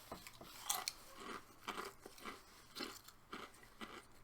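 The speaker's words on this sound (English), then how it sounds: "you can hear him crunching" Close, crisp crunching of crackers being chewed, with irregular bites and crackles spread across the whole stretch and no talking.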